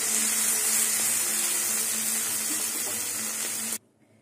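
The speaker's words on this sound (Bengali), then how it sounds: "এবার এটা কিছুক্ষণ আমি ভেজে নেব" Shrimp and green chilies fry in hot oil with a loud, steady sizzle that runs unbroken for several seconds, then cuts off abruptly.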